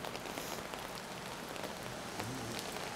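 Heavy rain pours steadily onto the ground outside a doorway of the Mi'kmaq Native Center in the North End, a dense, constant hiss of drops with no voices.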